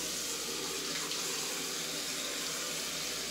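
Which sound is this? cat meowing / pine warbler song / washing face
washing face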